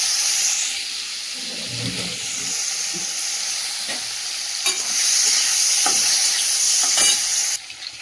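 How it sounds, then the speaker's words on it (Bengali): Dried fish frying in hot oil, a loud steady sizzle and hiss running throughout, with a few sharper crackles and pops breaking through near the end. "আর এদিকে তো তেল গরম হয়ে গেছে, শুকনো মাছগুলো দিয়ে দিই। শুকনো মাছটা একটু ভেজে নিই।"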